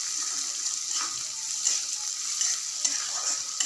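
Onion and semolina being roasted for upma in a pan, with a soft steady sizzle and occasional light stirring scrapes, close up and without speech.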